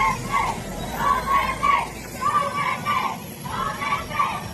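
A large crowd shouts in rhythmic chant-like bursts, loud and dense, at a political figure's arrival in Davao, with mixed voices rising and falling over continuous crowd noise.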